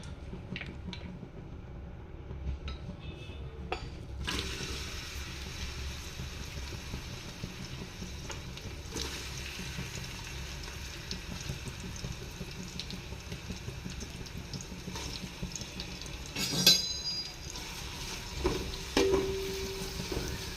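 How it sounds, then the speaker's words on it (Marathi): Chopped onion frying in hot oil in a home kitchen, a steady soft sizzle running throughout with occasional clinks and stirring knocks, fairly faint and close. "तेल चांगलं तापलं ना की कांदा पटकन भाजला जातो।"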